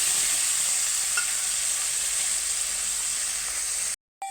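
Spice paste for a pointed gourd (potol) dish with a pinch of turmeric sizzles steadily in hot oil while being stirred, a close, continuous fry hiss that cuts off abruptly near the end.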